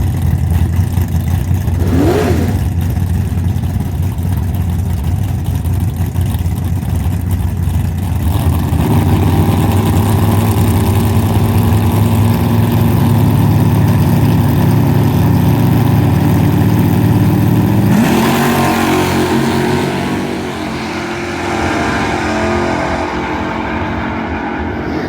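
Nostalgia super stock drag race cars at a championship event rev loudly and launch, engines roaring steadily at close range before one pitch shift and a slight drop as they pull away; no talk.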